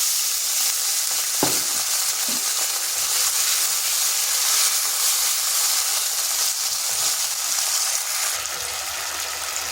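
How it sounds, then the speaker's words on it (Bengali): Ginger sizzles steadily in a hot pan of oil, a close, continuous frying hiss with a couple of soft stirring knocks, and no talk. "একটু আদাটা ভেজে নিচ্ছি যাতে তার কাঁচা গন্ধটা চলে যায়।"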